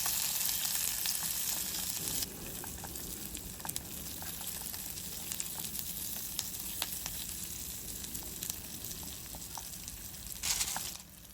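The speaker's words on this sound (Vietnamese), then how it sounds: "Dầu nó nóng rồi, bây giờ mình sẽ cho sả cây nè, tỏi và ớt." Crushed lemongrass, garlic and chili sizzle steadily in hot oil in a pan, a continuous close frying hiss with occasional stirring clicks and pops, louder at the start.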